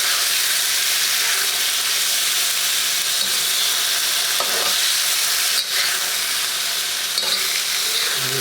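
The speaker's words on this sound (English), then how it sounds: "And you want to move it around pretty much constantly." Chicken stir-frying in a wok and kept constantly moving, a loud, steady hiss of sizzling with faint scraping of the utensil throughout.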